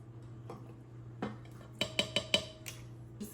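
Batter is mixed in a bowl, with a quiet run of clinks and taps from a utensil striking the bowl's side, several clustered close together, close and soft against a low hum, with no talking.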